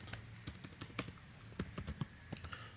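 Typing on a computer keyboard while writing code, scattered close key clicks in quick uneven bursts with short pauses, quiet and alone.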